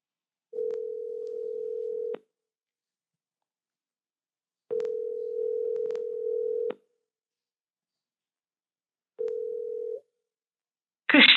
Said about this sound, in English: let's watch and listen to this first phone call